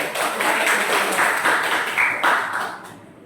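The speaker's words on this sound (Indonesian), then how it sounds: "Terima kasih, tepuk tangan." Classroom of students clapping together, a brief burst of rhythmic applause at close range that fades out toward the end.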